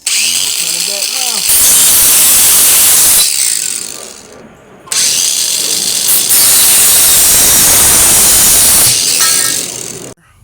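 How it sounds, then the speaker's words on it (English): Steel frames for custom lawnmower wheels are being welded, with a loud, harsh, sustained crackling hiss that runs in two long bursts separated by a short pause. "Now I'm about to weld the frames for the wheels on front and back"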